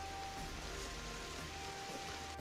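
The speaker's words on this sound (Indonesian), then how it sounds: "Kita ke terjang hujan teman-teman ya, sama Mas Ripo di belakang hanya pakai daun" Heavy rain falls steadily outdoors in Mojokerto, Indonesia, a constant soft wash of hiss and patter at moderate distance with no voices.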